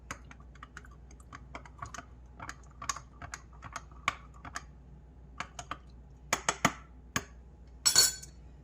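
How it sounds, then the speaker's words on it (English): A spoon mixing freeze-dried orange powder with water in a glass jar, making scattered light clinks and taps against the glass, close and uneven, ending in a louder rattling burst. "I'm just gonna add a cup of water, and then I have a spoon. I'll mix it here."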